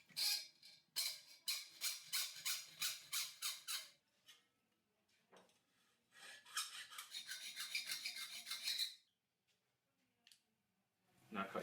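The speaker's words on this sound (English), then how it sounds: "Put the piece in the vise so that the blade can slip underneath. Cut your first 30mm flange off." A saw blade cuts a 30mm steel flange clamped in a vise, making steady rhythmic back-and-forth rasping strokes in two bursts, close and moderately loud, with pauses between them.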